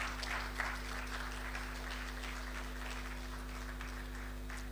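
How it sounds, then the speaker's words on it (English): Audience applause at a business stakeholder engagement forum, a steady spread of clapping held at moderate level across the whole stretch, with no talk over it. "A round of applause again one more time,"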